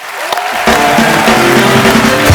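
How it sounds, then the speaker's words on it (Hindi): Studio audience of a Hindi comedy show breaks into loud applause and cheering, with music swelling underneath, a short, full burst. "एक बार जिमी पाजी के लिए जोरदार तालियां"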